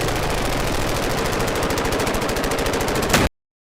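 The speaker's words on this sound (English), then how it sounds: "At the minute they're firing lots of rounds, but don't seem to be shooting at anything." Automatic gunfire rattles off many rounds in a fast, unbroken burst, loud and close, that stops abruptly after about three seconds.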